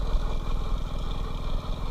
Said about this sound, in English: The engine was cold